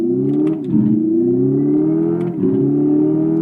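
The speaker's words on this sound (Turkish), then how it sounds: "Ioniq 5'in şimdi hızlanmasına ve gösterge paneline bakın." A Hyundai Ioniq 5 electric car accelerates with a rising synthetic whine that climbs in pitch, drops back twice like gear shifts, and climbs again, close and steady.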